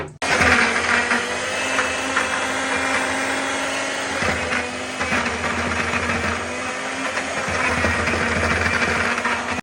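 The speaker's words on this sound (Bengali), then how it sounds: "তাহলে এখন আমরা ব্রান্ডার করবো" An electric blender running on eggplant, a loud, steady motor whir with a brief dip in pitch partway through before it continues, close and unbroken, with no talk.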